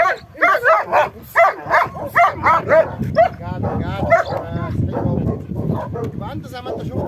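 A fierce dog barking in a rapid series of harsh, loud barks close by, followed by mixed yelping, growling and commotion, with a voice talking over the later part.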